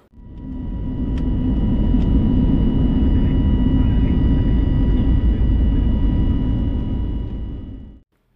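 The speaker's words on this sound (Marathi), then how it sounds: "प्लेनने आता टेक ऑफ केला आहे." An airplane takes off from Mumbai, heard from inside the cabin as a loud, steady engine roar and broad rumble that swells in and holds for several seconds before cutting off.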